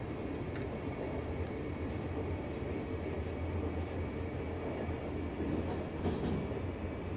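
A train departs in the Train Simulator 2019 game on the Teuto line near Osnabrück, set in the 1990s, with a steady, moderately loud rolling rumble and a low hum and no talking.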